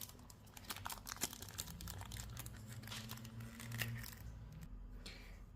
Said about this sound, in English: Free him from his plastic.